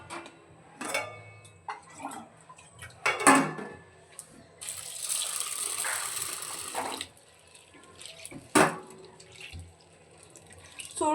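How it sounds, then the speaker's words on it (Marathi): Chana dal, split chickpeas, washed in a bowl under running tap water: a burst of pouring and splashing in the middle, with sloshing, clinks and handling noises before and after, and no speech. "आता ही चणा डाळ आपल्याला स्वच्छ अशी 1-2 पाण्याने धुवून घ्यायची आहे"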